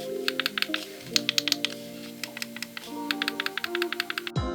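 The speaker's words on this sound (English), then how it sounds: "The D-pad is a good size and has a nice click to it." Crisp, rapid clicks from the D-pad of a GameCube-style Joy-Con controller, pressed in quick irregular bursts, close and fairly loud over a faint tonal background.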